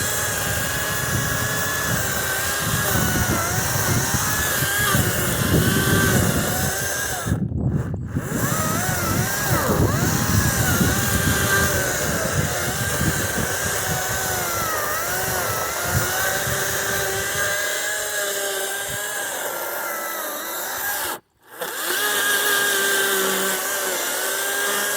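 A Kobalt 40V Max battery chainsaw cuts through a cedar, a loud steady whining motor under load running continuously close by, dropping out briefly twice.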